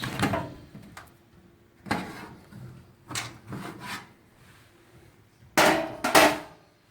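A 13 mm nut is worked loose with a hand tool, giving scattered metallic knocks and clanks spaced a second or two apart, close and fairly quiet.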